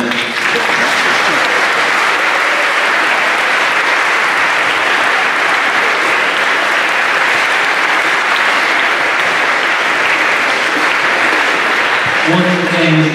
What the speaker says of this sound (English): thank you for your spontaneous applause there